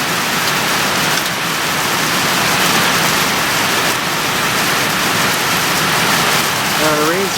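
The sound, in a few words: heavy rain falling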